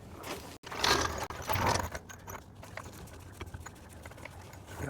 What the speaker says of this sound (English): let's jack it up